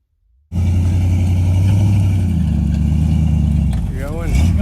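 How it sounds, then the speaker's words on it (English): A truck approaches with a loud, close engine rumble that starts suddenly after a moment of quiet, holds steady and swells slightly near the end, with voices faintly underneath. "I hear a truck coming."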